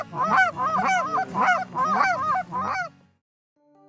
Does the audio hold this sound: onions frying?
no